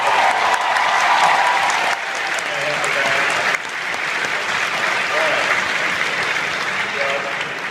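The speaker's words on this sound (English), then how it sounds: "Big round of applause for our guy." Audience at a convention Q and A for Ash vs the Evil Dead breaks into loud, sustained applause that fills the room for several seconds, with slight dips as it continues.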